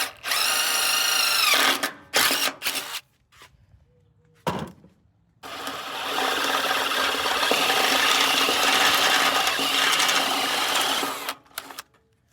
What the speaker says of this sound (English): punch some marks and drill some holes